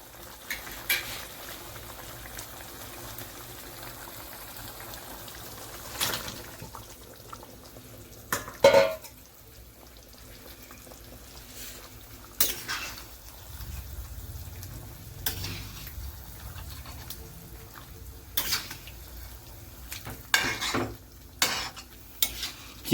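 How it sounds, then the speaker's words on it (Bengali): Chicken pieces are stirred into spiced masala in a pot while making chicken korma over a low flame. A spoon scrapes and clatters against the pot in scattered strokes over a soft sizzle, and no one speaks. "এবার আমরা এর মধ্যে চিকেনগুলোকে অ্যাড করব।"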